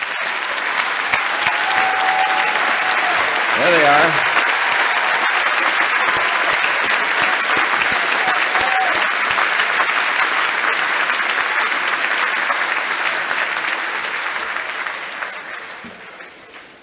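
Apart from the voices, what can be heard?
audience applause for graduates' parents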